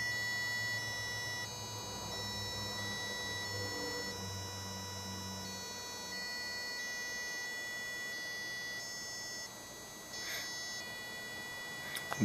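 A steady, high-pitched electrical whine from the air core motor inside a fuel flow gauge driven by an Arduino Nano, holding faint and continuous throughout with a few tonal lines and no voices.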